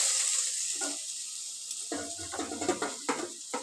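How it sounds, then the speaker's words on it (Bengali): Grated radish, squeezed of its water, stirred and fried with potatoes in a pan for a Bengali mulo ghonto: a soft sizzle under scattered clacks and scrapes of a spatula stirring, busier toward the end. "এবার আলুর সাথে মূলোগুলো আমি ভালো করে নাড়াচাড়া করব কষিয়ে নেবো"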